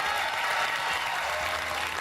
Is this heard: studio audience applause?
yes